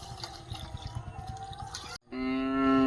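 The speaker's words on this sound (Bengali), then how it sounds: "গরুগুলো ভয়তে ডাকছে, দেখেছো?" Frightened cows calling before a storm at a farmhouse in open fields, one long, loud, sustained moo after a brief gap, over low rumbling ambient noise.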